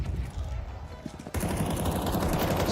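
Rapid automatic gunfire in a Counter-Strike esports match, a burst of quick cracking shots that cuts in abruptly halfway through and continues loudly to the end, with game sounds before it.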